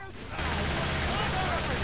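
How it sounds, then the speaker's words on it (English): Rapid gunfire from several weapons in the co-op shooter Left 4 Dead 2 bursts in after a quiet start and then rattles on loud and continuous, with players' voices mixed underneath. "We should not be shooting each other!"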